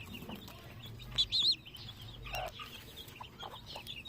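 Native chicken hen clucking nearby, a few short clucks and soft calls scattered over quiet farmyard background.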